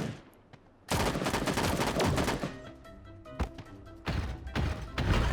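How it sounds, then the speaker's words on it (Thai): Rapid spray of robot transformer gunfire in the video game Sausage Man, loud dense bursts starting after a quiet opening, with thumping impacts between volleys. "มันก็ยิงยากอยู่นะเนี่ยลูกกระสุนมันกระจายกระจายเวอร์อยู่นะ ลูกรสุนหุ่นยนต์น่ะ"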